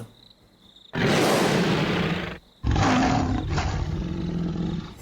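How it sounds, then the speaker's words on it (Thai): A loud tiger roar used as a sound effect in a Thai audio drama, two long powerful bursts separated by a brief pause, with no talk over them. "เสียงเสือไม่รู้คำรามมาจากไหน"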